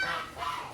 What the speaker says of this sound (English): You can hear the geese down below.